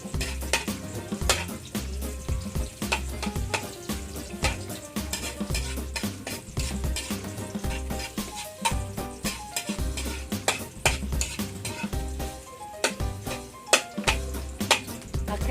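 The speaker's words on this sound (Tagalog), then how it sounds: "Una tayo gigisa sibuyas para mahamot siya." Onions sauté in a pan for catfish in coconut milk, a steady close sizzle broken by frequent clinks and scrapes of a utensil stirring against the pan, with no one speaking.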